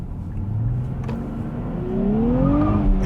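A 2023 Nissan Z Proto Spec twin-turbo sports car accelerates hard, its engine note climbing steadily in pitch through the gear with a whirring turbo edge, loud and close from start to finish.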